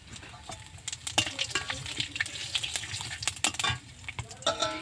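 Bay leaves and whole cumin seeds crackle in hot oil as a spoon scrapes and clinks against the pan in quick, irregular strokes, close up with no voices.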